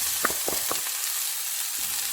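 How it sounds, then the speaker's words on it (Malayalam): Chopped onion dropped into hot oil with popped mustard seeds, giving a steady broadband sizzle with a few crisp crackles and stirring scrapes early on, close and moderately loud, no voices. "ഇതിലേക്ക് നമുക്ക് സവാള ഇട്ട് കൊടുക്കാം."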